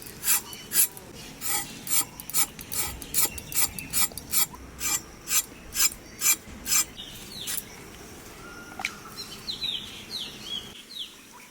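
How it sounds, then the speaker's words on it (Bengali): The thin skin of a pointed gourd is scraped off with a blade in quick, rhythmic rasping strokes, about a dozen close, crisp scrapes that then stop, while a bird chirps faintly nearby. "পটলটার খোসা ফেলবো না শুধু এরকম একটা আছড়ে নেবো"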